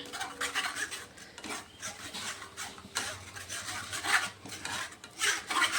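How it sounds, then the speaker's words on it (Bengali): Ground tomatoes are pushed and rubbed through a sieve, giving close, repeated rasping scrapes in irregular strokes, fairly quiet with no talk. "এই যে গ্রাইন্ড করা টমেটোগুলো একটু চেলে দেব"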